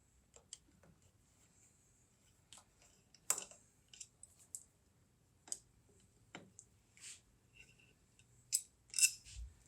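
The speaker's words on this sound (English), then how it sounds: "So we'll go ahead and remove our cap screws." Removing 5mm cap screws from the cover of a HOMA GRP series pump, heard as faint, sparse metallic clicks and small scrapes at irregular intervals, close by in a quiet room.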